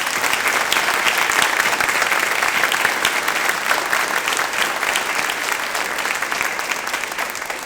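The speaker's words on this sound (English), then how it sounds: "So I do think we need to give them a round of applause." An audience at a State of the City address applauding city employees, dense sustained clapping from a sizable crowd that holds steady for several seconds before easing slightly.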